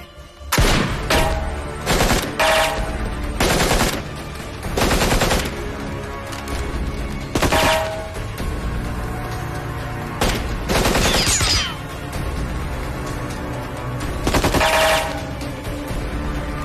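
Bursts of gunfire in a film action scene, with repeated loud volleys and rapid automatic fire separated by short pauses, and no talk over them.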